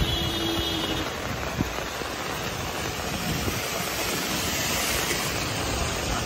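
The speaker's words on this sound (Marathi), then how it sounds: "परत पाणी ते उडते आहे, वारा आहे आणि तेवढंच आहे, पाऊस पण आहे." Heavy monsoon rain pours down in Mumbai near a temple gate, a loud continuous rushing wash of water with gusting wind, steady throughout and close to the listener.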